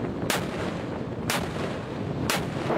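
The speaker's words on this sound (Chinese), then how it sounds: "大连舰、长沙舰、柳州舰、岳阳舰主炮对目标实施集火攻击" Naval destroyer main guns fire at a sea target during a fleet strike drill: three heavy booming shots, evenly spaced about a second apart, over a steady roar of wind and sea.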